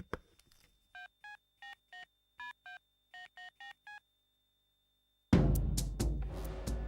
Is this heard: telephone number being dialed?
yes